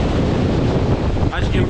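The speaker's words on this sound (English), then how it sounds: "As you can probably hear, the wind is pretty mental at this point." Strong wind batters the microphone near Ushikubiyama on Yatsugatake, a loud, continuous roaring buffet with a brief dip in the gusting near the end.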